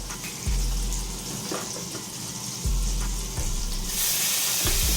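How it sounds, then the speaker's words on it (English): Butter and garlic sizzle loudly in a hot pan, a continuous frying hiss broken by a few thumps and stirring clatters, growing brighter and harsher near the end. "You put your butter in the pan. Then you want to add your garlic."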